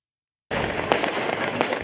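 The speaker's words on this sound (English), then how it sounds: "Fireworks turned into weapons as protesters launched them at riot police and buildings across France." Fireworks launched by protesters at riot police during street unrest in France: a dense, continuous crackle and hiss starts abruptly, with two sharp louder bursts standing out, fairly close and with no talking.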